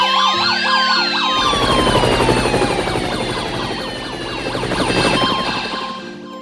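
Several sirens from fire, police and ambulance vehicles wail at once, loud and close, their rising and falling tones overlapping with a deep rumbling engine beneath.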